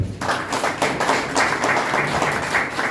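Audience at the soft launch of the film Magudi clapping together, a steady dense patter of many hands filling the room for the full stretch, fairly loud and continuous with no talk over it.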